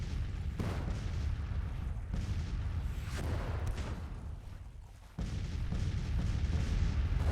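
Artillery fire in the strategy video game Grand Tactician, set in an 1861 American Civil War campaign: a steady, dense rumble of booming cannon fire that runs throughout, dipping briefly before resuming at full loudness.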